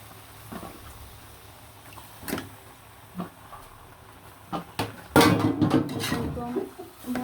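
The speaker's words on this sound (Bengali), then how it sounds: "মাংসগুলো দিয়ে কিন্তু আমি মশলার সাথে লাড়াচাড়া দিয়ে এইভাবে মিশিয়ে নিলাম" Beef pieces are stirred and mixed with spices in a metal cooking pot, giving scattered scrapes and clinks, then a louder busy stretch of clattering toward the end, with background hiss.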